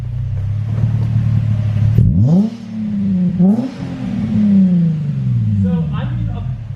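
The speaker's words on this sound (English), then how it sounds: "Let's let it warm up for a minute, then we'll rev it." A Nissan 350Z with a welded differential and aftermarket exhaust blips its engine: a steady deep idle, then two sharp revs that rise and fall around the middle before settling back to a loud, rumbling idle, all close by.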